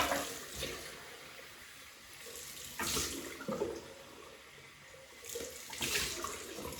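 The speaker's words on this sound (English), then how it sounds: "cold water rinse" Tap water runs and splashes in uneven surges for a cold rinse after a shave, swelling louder twice before easing back to a steady hiss.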